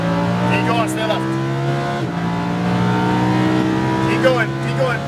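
A Lamborghini Huracan accelerates at full throttle on a track at Speed Vegas, its engine note climbing loudly through the revs up close, with a brief dip at a gear change and a voice speaking over it.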